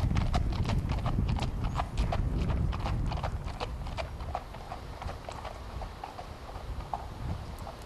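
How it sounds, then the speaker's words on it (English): A gelding's hooves beat in a quick, rolling three-beat canter rhythm on the ground, steady and fairly close, gradually easing slightly in loudness. "It's a canter."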